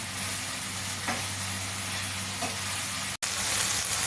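Chicken breast frying in a pan, a steady loud sizzle that holds throughout with a faint tap or two, close up, broken by a brief cut near the end.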